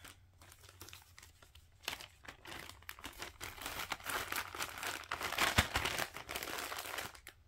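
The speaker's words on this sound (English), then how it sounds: "There's going to be a lot of rustling in this video" Hand-dyed 14-count Da Vinci cross-stitch fabric rustles and crinkles as it is handled up close, with continuous soft crumpling and sharper crinkly bursts throughout, no talking.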